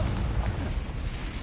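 A Confringo spell blast in the video game Hogwarts Legacy produces a dense, low rumbling boom that holds steady through the brief moment, loud and without talking.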